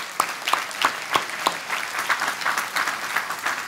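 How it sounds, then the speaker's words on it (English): An audience at a corporate keynote claps for award winners; the applause starts with distinct sharp claps and blends into a fuller, sustained round. "just a final round of applause for all of our award winners."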